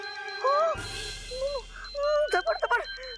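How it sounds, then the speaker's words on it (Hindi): A warning device alarm sounds overhead in a fantasy TV scene, a loud repeating electronic tone with rising and falling bleeps, blended with voices talking over it. "ये एक चेतावनी यंत्र की आवाज है जो तुम्हारे सिर पर बज रहा है।"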